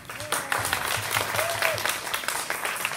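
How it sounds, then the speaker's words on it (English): An audience applauds grade 4 students at a school talks event, steady clapping throughout with a voice briefly heard over it. "Let's give them a round of applause before I start."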